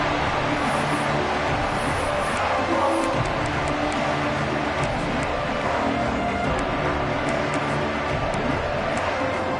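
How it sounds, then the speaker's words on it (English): A stadium crowd in a college football video game, Clemson versus Northwestern, roars as a dense, steady wall of noise that holds at an even loudness throughout. "Listen to the crowd energy here in the early going."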